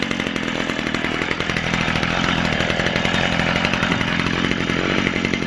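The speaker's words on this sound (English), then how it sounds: "the trimmer is running. We're gonna let it warm up a little bit before we give it any gas" A Stihl FS55 string trimmer's small two-stroke engine idles while warming up, a loud, steady buzzing rattle close by with no throttle changes, running continuously without speech.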